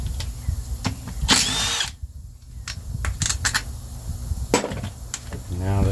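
Bursts of a power tool whir and rattle against a bolt on an old tiller engine, with short metallic clanks between runs and a voice speaking briefly.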